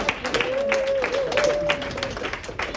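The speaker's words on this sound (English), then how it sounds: "another warm applause for Cindy from you" An audience at a state senate campaign launch party in New Hampshire claps briefly for a guest, a dense patter of hands with a faint steady tone running underneath.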